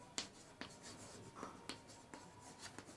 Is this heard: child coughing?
no